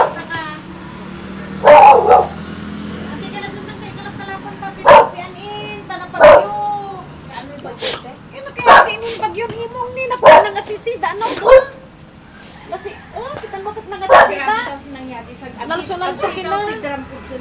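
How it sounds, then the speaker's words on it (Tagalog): A dog barks in sharp, scattered bursts and yips, some close and loud, while people talk intermittently in a home setting. "Para hindi maingay yung aso?"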